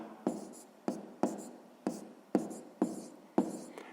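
Pen strokes scratch on paper while a math exercise is worked out, seven short, quiet, evenly spaced scribbles, each a sharp start that trails off, with no voice.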